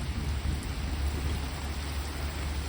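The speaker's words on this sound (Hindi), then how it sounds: "बहुत ज़्यादा तेज़ बारिश है।" Very heavy rain pouring down outside a home, a dense continuous roar with a deep low rumble underneath, steady and loud for the whole moment.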